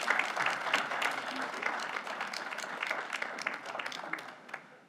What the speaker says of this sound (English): Let's give Edwina Moss our round of applause,